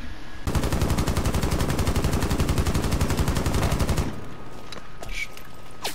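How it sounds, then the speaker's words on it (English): Rapid automatic gunfire in the tactical shooter game Rainbow Six Siege, a loud sustained burst of closely spaced shots lasting about three and a half seconds before cutting off to quieter game ambience. "Oh, someone started shooting at us."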